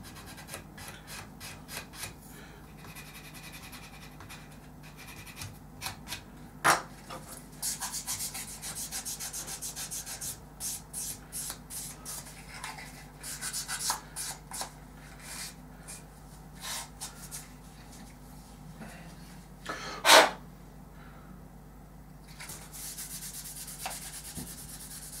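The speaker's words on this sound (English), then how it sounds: "So now I'm just going to sand the inboard leading edge here." Soft, irregular scratchy rubbing of a sanding stick on the inboard leading edge of a small model aircraft wing, in short strokes with a few sharper scrapes, close and quiet.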